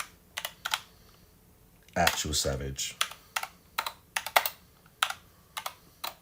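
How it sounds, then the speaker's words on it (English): Typing on a computer keyboard in quick irregular bursts of close, crisp key clicks, with a short spoken remark partway through. "I'm typing bad."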